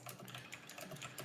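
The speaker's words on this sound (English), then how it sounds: "And your keyboard is extremely loud" Rapid, continuous typing on a loud mechanical computer keyboard, dense clicking keystrokes close to the microphone in a sim racing stream setting, with no talk.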